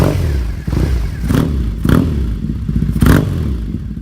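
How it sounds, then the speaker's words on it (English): Motorcycle fitted with a British Custom Predator exhaust, revved close up in several sharp throttle blips over a rumbling idle. "The British Custom Predator exhaust was already on there, which they sound fantastic."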